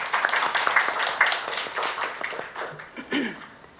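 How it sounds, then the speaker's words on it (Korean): Audience applause at a human rights forum in Jeonbuk, a steady burst of many hands clapping lasting several seconds and fading toward the end, with a faint voice underneath. "박수 좀 함께 쳐주십시오"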